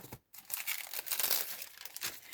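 A flexible plastic acetate sheet is crinkled close by hand during a craft project, producing sharp crackling bursts that rise and fall after a brief silent gap near the start.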